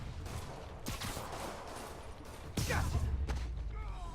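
Rockets firing and blasting in the Marvel's Spider-Man video game: sharp bursts land at scattered moments over a loud, busy din of action noise, and one heavier blast pushes the level up partway through.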